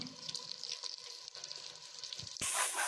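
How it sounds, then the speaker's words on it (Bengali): Onion, garlic and ginger paste sizzling in ghee and oil, a faint crackling fry that surges into a louder hiss near the end. "এবার এর মধ্যে পেঁয়াজ রসুন আদা বাটা একসাথে আমরা দিয়ে দিচ্ছি"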